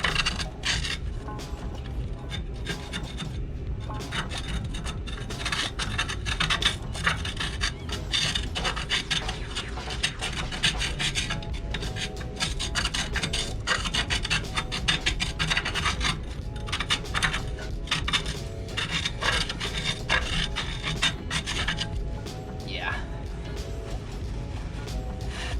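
Continuous gritty rasping and scraping inside a cast iron pipe hub as it is scrubbed clean for a lead joint, with irregular scratchy strokes and faint metallic clinks throughout, close and fairly loud.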